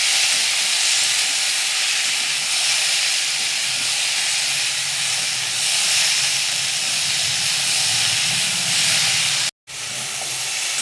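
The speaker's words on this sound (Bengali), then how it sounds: "টমেটোটাকে দিয়েও একটু ভাজবো।" Tomatoes frying in oil with potatoes and pointed gourd, a loud continuous hissing sizzle that cuts out for a moment near the end before resuming.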